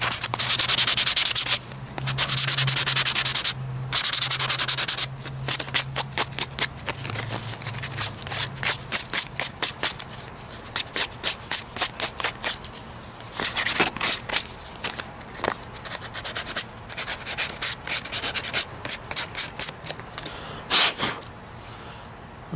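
Quick back-and-forth sanding strokes smooth the edges of a Mobius action cam before painting, a close, rapid scratchy rhythm with a few brief pauses, and no talking.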